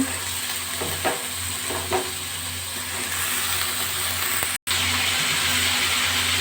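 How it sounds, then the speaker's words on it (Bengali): Pumpkin pieces frying in a pan over a low gas flame, giving a steady broadband sizzle with a few faint stirring clicks and one brief dropout, no voices. "মিষ্টি কুমড়োগুলো আমি দিয়ে দিলাম এই অবস্থায় আমি গ্যাসের ফ্লেমটা কমিয়ে রেখেছি"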